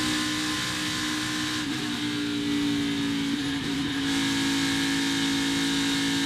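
ARCA stock race cars roar around Michigan International Speedway in a loud, continuous engine drone that swells and shifts in pitch as cars pass close by.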